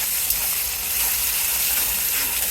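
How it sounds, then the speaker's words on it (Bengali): Chopped onions fry in oil spiced with bay leaf, whole garam masala, ginger and cumin, giving a steady, close, dense sizzle that holds evenly with no talk. "দিয়ে দেবো পেঁয়াজ কুচি ভালো করে ভেজে নেব"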